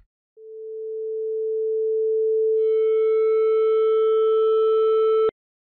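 A pure sine wave tone at 440.1 Hz, used in a forced oscillation and resonance demonstration, swelling steadily louder from near silence over about five seconds, gaining faint upper overtones, then cutting off abruptly.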